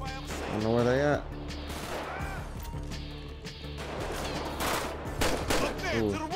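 Gunfire in GTA V sounds in repeated loud bursts and volleys of shots, with crashing impacts, while someone talks and shouts excitedly over the action.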